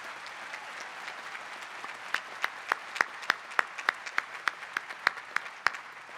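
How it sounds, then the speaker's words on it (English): An audience applauds the graduates at the Claremont McKenna College 2015 commencement. The clapping is a steady wash, with sharper nearby claps standing out in a regular rhythm and no voices over it. "Let's give our graduates a round of applause for all they have taught us"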